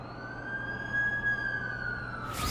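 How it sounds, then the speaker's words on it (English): An ambulance siren wails in The Amazing Spider-Man 2 video game, a steady sustained tone heard at moderate distance over a low background hum, with no speech. "That's the ambulance I called."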